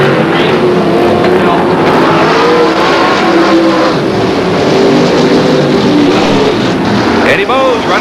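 Winged race cars roar around the Midwest Speedway oval in Lincoln, Nebraska, in 1983, a loud, continuous engine drone with rising and falling revs, and an announcer talking over it.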